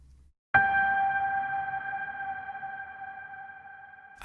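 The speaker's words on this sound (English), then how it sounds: "let's go ahead and just hear the trailer piano by itself" One struck note from a Steinway D concert grand trailer piano, filtered and drenched in reverb, rings out as a sustained pure tone and fades slowly after a silent gap.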